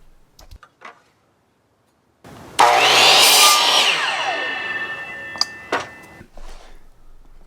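A power sander works on 3/4 inch plywood pieces, a loud close whirring roar that starts abruptly, runs for about four seconds with shifting pitch, then cuts off amid a few small knocks.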